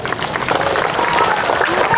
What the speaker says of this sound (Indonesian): Tepuk tangan untuk Nanda Arkana